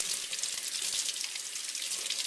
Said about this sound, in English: Still rinse off the apple